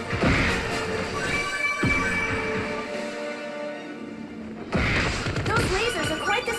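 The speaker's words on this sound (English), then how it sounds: "Those lasers are quite the security system." Rapid bursts of energy-weapon laser fire and crashing impacts in the video game Kid Icarus Uprising, loud and dense, with a brief lull before the blasts resume amid game music.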